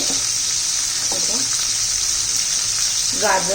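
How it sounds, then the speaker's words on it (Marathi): Vegetables being sautéed in a pan for masale bhat, with tomato, chilli, cauliflower and potato, give a loud steady hiss of frying close up, while a voice speaks briefly over it. "हे सर्व भाज्या पण चांगल्या परतून घेऊया"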